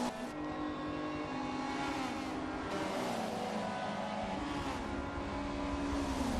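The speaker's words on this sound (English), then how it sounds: "allow Kirkpatrick on the inside, but they touch a little bit under as they drive away from the apex" Touring cars race at Mugello in a video game, their engines droning in a steady, loud, continuous whine that rises and shifts in pitch as they accelerate, with no voices.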